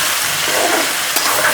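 Ginger paste fries in hot oil for a spicy chicken pickle, giving a loud, steady sizzle with a brief scrape of stirring near the end.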